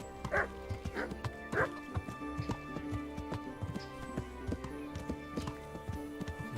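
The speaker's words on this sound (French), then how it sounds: "il y a un chien" A dog barks several times in quick bursts close by in the video game Kingdom Come: Deliverance, over a rhythmic clatter of horse hooves and steady background music.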